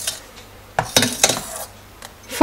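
A utensil scrapes and clinks against a pan while custard for caramel ice cream is stirred over low flame, with several distinct metallic taps and scrapes spaced irregularly, close up in a quiet kitchen.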